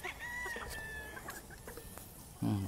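Proven laying hens cluck on a Philippine poultry farm, soft scattered clucks and calls at a moderate distance over a low ambient hum, with one louder cluck near the end.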